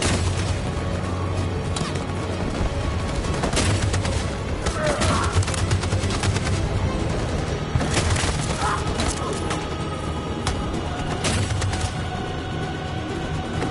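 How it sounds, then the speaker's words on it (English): Sustained machine gun fire in Detroit: Become Human, a dense, loud fusillade of rapid shots with booms and splintering impacts, continuous throughout the battle scene with occasional shouted voices buried in the din. "That machine gun is taking down everything that moves!"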